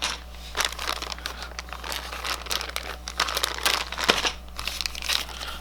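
A big plastic bag of Star Wars Legion miniature bases is handled, giving close, steady crinkling and crumpling with small crunchy bursts throughout and no talking.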